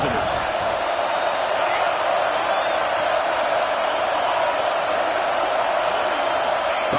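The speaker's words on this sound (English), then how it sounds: "Listen to the crowd energy here in the early going." A football stadium crowd roars as a steady, dense wash of distant cheering and shouting that holds constant without breaks.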